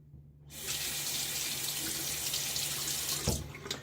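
Water runs from a bathroom faucet during a wet shave. It starts abruptly, splashes steadily for about three seconds, then cuts off with a brief clunk.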